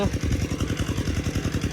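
A farm tractor engine runs at a steady idle near a pond being pumped for fish, a close, rhythmic low chugging with rapid regular pulses and a clattering edge that continues throughout.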